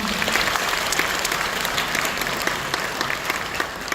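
An audience at the opening ceremony of the Dongguk Buddhist 108-member choir's founding concert claps loudly and steadily, a thick, even wash of applause with no voices.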